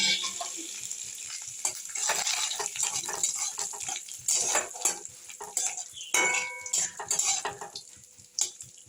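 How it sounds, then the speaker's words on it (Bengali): Dried red chilli, bay leaf and whole cumin splutter in hot oil in a wok for a vegetable dal. Crackling sizzles mix with repeated clinks and scrapes of a spatula stirring, with no talk. "তেজপাতা আর গোটা জিরে আমি কড়ার মধ্যে দিয়ে দিলাম।"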